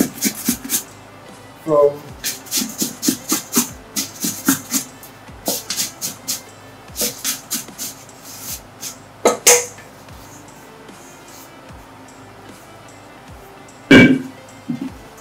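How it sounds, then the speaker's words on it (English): A tool scrapes leftover fondant from the bowl of an industrial mixer in a series of short, close scrapes and knocks in uneven bursts, with a lone louder clatter near the end. "I'm just trying to scrape excesses"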